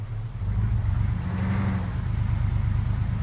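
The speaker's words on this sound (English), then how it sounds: "Stealing your vehicle." Vehicle engine in the Arma 3 video game revving up and pulling away, a steady low throaty drone that swells after a brief quieter start and holds at a constant level, close and moderately loud, no talking.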